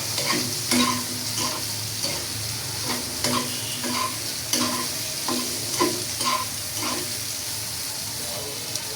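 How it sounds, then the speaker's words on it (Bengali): Soybean chunks sizzle steadily in a hot pan, broken up by regular scraping taps of stirring. "এদিকে আমার সয়াবিন ভাজতে ভাজতে"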